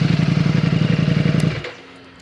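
Warmed-up motorcycle engine idling steadily up close, a fast even pulsing throb that cuts off abruptly about two-thirds of the way through, leaving faint quiet.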